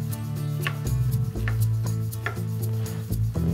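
Knife chopping salad ingredients on a cutting board into small quarter-inch bits for a steak and pineapple salad, a series of close crisp cuts and thuds in uneven rhythm, with no voices.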